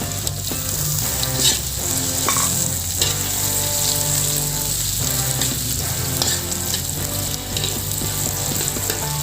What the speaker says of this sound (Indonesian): Sekarang kita tambahkan bawang bombaynya ya.